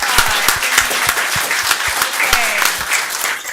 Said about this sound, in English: yes, we're going to clap and